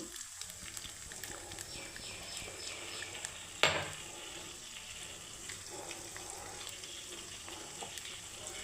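An egg seasoned with pepper and salt fries in plain oil with a faint, steady hiss, and one sharp clack breaks in midway.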